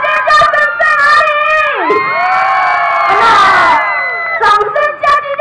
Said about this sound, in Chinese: 来，现场尖叫声在哪里？